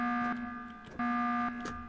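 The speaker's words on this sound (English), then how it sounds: "And there's the alarm system." An alarm system sounds in the video game Sunkenland: a loud electronic buzzer tone blares for a long stretch, cuts off briefly, then blares again, with faint clicks between the blasts.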